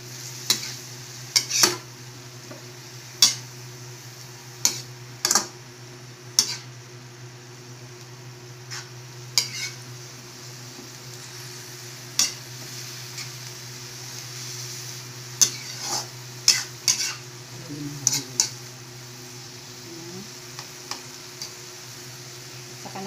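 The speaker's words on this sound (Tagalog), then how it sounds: "Haluin." Sautéed bean sprouts and tofu stirred in a pan with fish sauce, a steady low sizzle under repeated sharp utensil scrapes and clicks against the pan, close and alone without talk.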